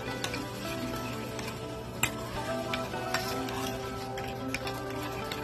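Cookies and cream ice cream mixture with crushed Oreos being mixed, a steady close churning and swishing with a few light clicks and ticks, no voices.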